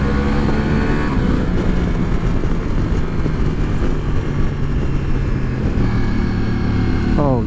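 Engine and exhaust of a 2023 Ducati Multistrada V4 Pikes Peak motorcycle with a stock exhaust, a loud, continuous, close-miked drone with shifting pitch as the rider rolls through third gear on engine braking, under wind and occasional talk.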